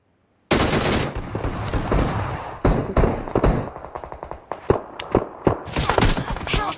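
Bursts of automatic gunfire in the BGMI mobile battle royale game, a long loud volley followed by scattered shorter bursts and single shots.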